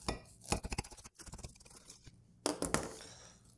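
A knife slices into a smoked stuffed burger filled with cheddar and jalapeno, with close, quiet clinks and scrapes of blade and utensils on a plate coming in short irregular bursts separated by brief pauses.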